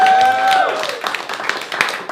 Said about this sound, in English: Let's give him another round of applause, guys.